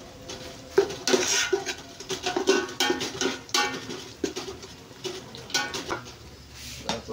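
A metal spoon stirs nutmeg and black pepper in a pot for Arabian kabsa rice, giving irregular scraping clinks and knocks against the pot, close up and fairly quiet, with no voices.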